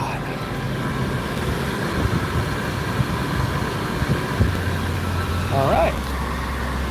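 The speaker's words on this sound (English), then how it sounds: "We're now looking at a nice idle." A 2019 Buick Encore engine idles steadily after new coils and spark plugs, a smooth low hum running throughout, with a brief spoken word over it.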